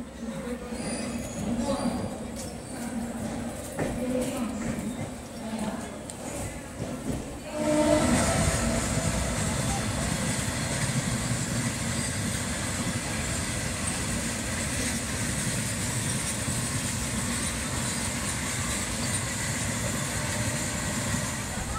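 Jammu Tawi Express 13152 heard from on board: a steady, fairly loud rolling rumble and rattle of the moving train. It is quieter and more muffled at first, then opens up into a fuller roar for the rest of the clip.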